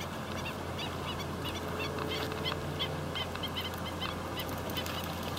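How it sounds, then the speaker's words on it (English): Hawaiian coots taking off and running across the water, giving a steady wash of splashing and flapping with scattered bird calls over continuous background noise, with no talking. "There goes all the coots."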